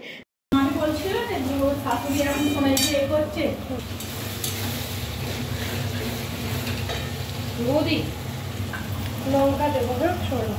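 Onion, tomato, ginger and garlic sauté in a pan at an outdoor picnic. A steady sizzle runs throughout with occasional stirring scrapes and light utensil clinks, and voices talk nearby.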